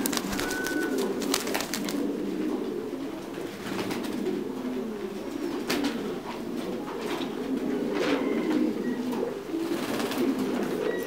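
Titan Thai meat pigeons in breeding cages coo steadily, with soft overlapping throaty calls forming a continuous murmur, plus occasional chirps and clicks and no voices.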